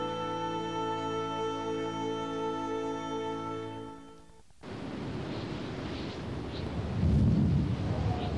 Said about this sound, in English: The idea of going out in this storm.